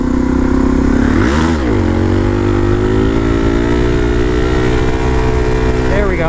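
A Suzuki DRZ supermoto motorcycle engine pulls steadily in third gear while ridden standing up, loud and close, with a droning note that dips and swells briefly before holding a sustained tone.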